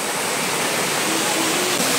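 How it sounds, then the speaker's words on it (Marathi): A small waterfall pours in a steady, loud, continuous rush of falling water, close by and unbroken throughout. "हे बघा, हा तो धबधबा"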